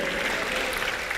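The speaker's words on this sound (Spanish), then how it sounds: "Fuerte aplauso al Dios que todo lo sabe y todo lo conoce y todo lo entiende" Steady applause from a church congregation during a Spanish-language worship service, a dense even wash of clapping that holds throughout without a break.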